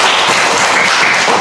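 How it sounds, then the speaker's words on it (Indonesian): Students in a classroom clap together, a brief, loud and dense patter of applause with no voices. "tepuk tangan untuk semua."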